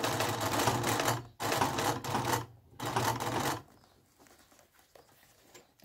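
A sewing machine stitches an order in fast, steady bursts: three runs of close, rapid mechanical chatter separated by short pauses, then quiet handling sounds.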